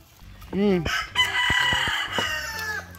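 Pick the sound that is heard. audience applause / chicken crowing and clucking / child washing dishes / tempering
chicken crowing and clucking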